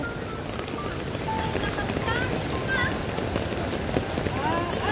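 Steady rain patters on a hard surface nearby, a dense continuous hiss with scattered drops and faint distant voices underneath.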